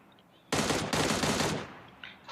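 A rapid burst of automatic gunfire in PUBG Mobile Lite rattles for about a second, pauses briefly, then continues before cutting off; loud and close.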